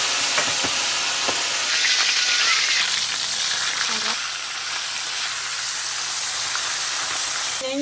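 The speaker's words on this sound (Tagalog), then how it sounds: "Gigisa tayo ng ampalaya." Loud, continuous sizzling and crackling of bitter melon sautéing in a hot pan, with occasional stirring scrapes, close and steady throughout.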